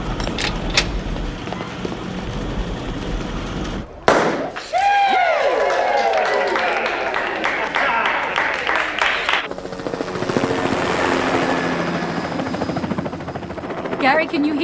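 A helicopter's rotor chop and engine roar fill much of the scene at close range, mixed with sharp bangs and other action-movie sounds, with people talking over it.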